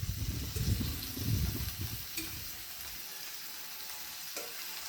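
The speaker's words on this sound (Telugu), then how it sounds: "బాయిల్ చేయండి, బాగా ఫ్రై చేయండి." Chicken curry mixed with yogurt sizzles and fries in a pan, with stirring scrapes early on, then a steady, moderate bubbling sizzle close by with no one talking.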